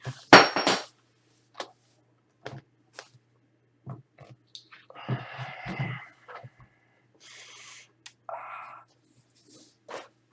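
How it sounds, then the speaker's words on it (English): A hammer being pushed around on the floor with a foot gives scattered metallic clangs and scrapes. There are a sharp knock at the start, then sparse irregular knocks and rubbing noises separated by quiet gaps. "I was moving the hammer around with my foot"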